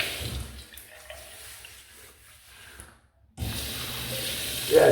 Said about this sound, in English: So I'm just going to put some water on the head.